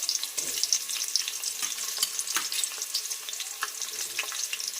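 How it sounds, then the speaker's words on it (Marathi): Onion and tomato frying in a pan for Marathi pea rice, a steady close sizzle with light crackling and occasional stirring, fairly quiet and with no voices. "इथं कांदा घातलेला आहे आणि घालूया टोमॅटो"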